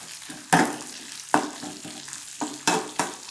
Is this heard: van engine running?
no